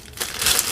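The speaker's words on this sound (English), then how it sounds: "We got a little plastic bag in here that doesn't have anything in it." An empty plastic bag crinkling as it is handled during an action camera unboxing, a short, close rustle of crumpling plastic.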